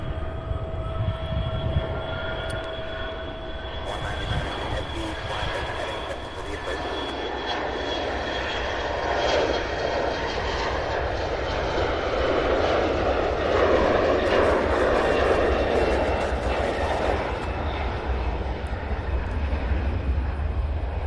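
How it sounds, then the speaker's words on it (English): An American Airlines jet taking off at CVG airport in Cincinnati, a loud sustained engine roar with whining tones rising and swelling throughout, heard from nearby outdoors. "What an awesome takeoff there."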